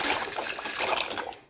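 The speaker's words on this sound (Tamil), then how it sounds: "இதில் வந்து இப்போ பாஸ்தாவை ஆட் பண்ண போகிறேன்." Wheat pasta poured into a pot of vigorously boiling water: a brief rushing splash and bubbling hiss with light tumbling clatter, close and fairly loud, fading out after about a second.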